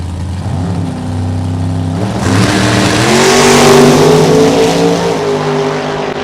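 A 1957 Corvette Roadster at a drag strip, its engine loud and close, rising in pitch as it revs and accelerates hard through the gears before easing off.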